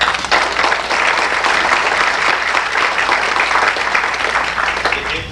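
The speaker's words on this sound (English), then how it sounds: "I'd like to give you all a round of applause." Sustained applause from a room full of staff at a company meeting, dense steady clapping holding at full strength for several seconds without a break.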